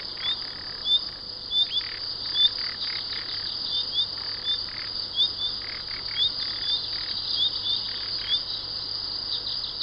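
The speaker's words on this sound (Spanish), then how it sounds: "La gran variedad de aves e insectos que hay en estos lugares queda patente con solo aguzar el oído." Small birds chirp and tweet in quick repeated bursts over a steady insect and cricket drone in dense foliage along a river, with no voices.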